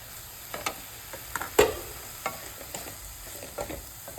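Banana flower stir-fry with coconut in a pan gets stirred with scattered, quiet spatula scrapes and taps over a faint, low sizzle, one sharper clack standing out early on.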